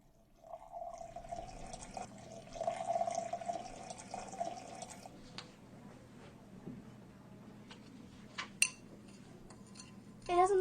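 Sand is stirred in a glass of water in a science lesson, giving a soft swishing, trickling liquid sound with a few clinks against the glass, fading after about five seconds as stirring stops, with no talk.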